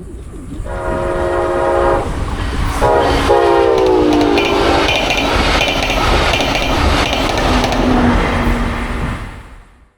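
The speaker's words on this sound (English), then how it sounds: "here's Bright Blue, southbound, crossing through the CP Camp Murphy crossovers, which are just north of the crossing" A Brightline passenger train runs southbound through the CP Camp Murphy crossovers near a grade crossing and blasts its multi-tone horn loud and close, followed by a steady roar of passing cars and wheels that fades near the end.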